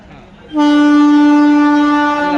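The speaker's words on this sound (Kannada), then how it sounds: "Vande Bharat express India's first bullet train ಅಲ್ಲ" Vande Bharat Express train sounds a long, loud, steady horn blast that starts abruptly after a moment of quieter background and holds its rich harmonic tone to the end.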